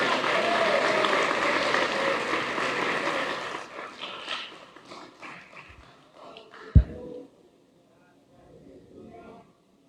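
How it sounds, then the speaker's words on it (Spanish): A church congregation applauds during a sermon on spiritual gifts, with steady clapping for about four seconds that then thins out and trails away, followed by scattered quieter sounds and a sharp knock. "Denle un fuerte aplauso a nuestro Señor Jesucristo."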